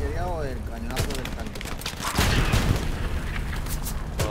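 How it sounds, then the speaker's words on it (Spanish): Artillery shells and cannon fire burst around a bridge in the World War II shooter Hell Let Loose, a dense run of booming blasts and gunfire with a louder cluster of heavy impacts midway, while someone talks over the battle. "Acaba de cargarse la mitad del puente esa artillería"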